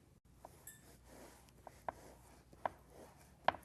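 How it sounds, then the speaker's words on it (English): A knife saws through a sponge cake to halve it for a princess doll cake, giving a few soft, spaced scraping strokes with faint clicks, close and quiet with no talking. "I'm going to cut this one in half also."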